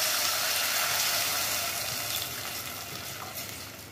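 Water poured into a hot pan of browning almonds and coconut, giving a loud, steady sizzling hiss that fades gradually as it settles, with no talk.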